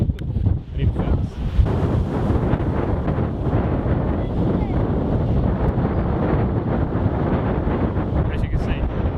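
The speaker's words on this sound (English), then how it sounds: "see, it's ridiculously windy." Strong coastal wind battering a microphone, a heavy continuous low rumble and buffeting that dominates throughout, with crashing waves likely buried beneath it and faint traces of a voice.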